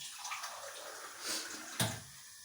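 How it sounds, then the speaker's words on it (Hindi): Half a glass of water poured into a cooking pot in a home kitchen, a soft continuous splashing pour ending in a brief sharp splash near the finish. "अब ये देखिए आधा गिलास और मैंने पानी डाल दिया।"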